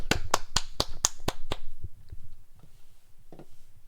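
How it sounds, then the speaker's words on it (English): A quick run of seven sharp claps or snaps in a steady rhythm, close and crisp, then a few fainter scattered taps and a brief murmur as it trails off. "Round of applause."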